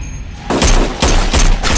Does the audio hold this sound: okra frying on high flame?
no